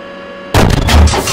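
A weapon fired on command, a single heavy, close boom that bursts in abruptly after a quiet stretch and rumbles on to the end.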